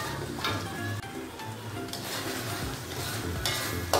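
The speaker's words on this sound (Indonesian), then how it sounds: "Diaduk." Sweet and sour fried fish being stirred in a pan with tamarind water, a steady wet scraping and sizzling close by, with brief clatters of the utensil against the pan.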